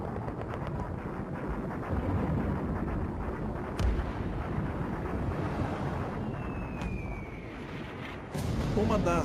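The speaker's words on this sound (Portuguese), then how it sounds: "Do convés do Tirpitz, os canhões desencadeiam uma barreira de fogo" Anti-aircraft and naval guns on the deck of the German battleship Tirpitz fire a defensive barrage against attacking Lancaster bombers, a dense continuous rumble of blasts with sharp reports standing out, loud and close.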